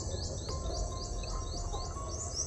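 A cuckoo calls repeatedly in a steady rhythm of rising chirps, somewhat distant, over a constant low rumble of background noise.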